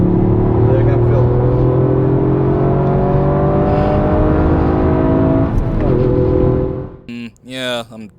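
A car accelerating on a racetrack, a loud in-cabin engine drone rising steadily in pitch through the gears, then easing off before someone talks.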